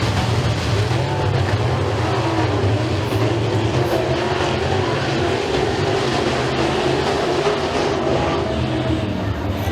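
Race cars roaring through an eight-car heat race at Eriez Speedway, a steady, loud engine drone that holds without a break, heard from trackside with no talk over it.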